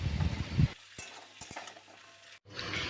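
Drumstick stalks fry with five-spice in a pan, a soft sizzle and stirring at the start, then a quieter stretch with a few clinks of a utensil, before the sizzling returns.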